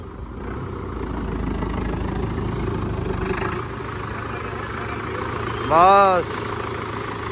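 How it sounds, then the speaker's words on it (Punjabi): A Sonalika 60 tractor engine idles in a steady, low rumble throughout, with a short voice-like tonal sweep near the end and people talking over it. "ਪੂਰਾ ਵਧੀਆ ਇੰਜਨ ਖੇਡਦਾ ਹੈ ਟਾਇਟ"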